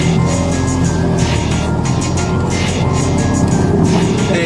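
A suspect's car speeds up and flees police on Broadway, its engine roar loud, steady and close, with wind and road noise filling the whole stretch.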